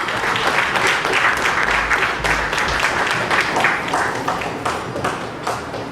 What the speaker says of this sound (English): Go ahead and give all of them a round of applause one more time.